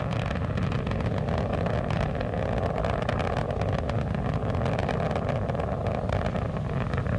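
Space Shuttle Atlantis main engines during the STS-112 launch from Kennedy Space Center, a continuous heavy broadband roar with dense low rumble and crackle, loud and steady throughout with no voices.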